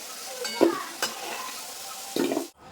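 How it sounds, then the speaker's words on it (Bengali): Potatoes fried deep red-brown in hot oil sizzle loudly up close while being stirred and lifted out, with a few scraping stirs and a final clatter before sudden quiet. "আলুগুলো কিন্তু আমি লাল লাল করে ভেজে নিয়েছি এবার তুলে নেব"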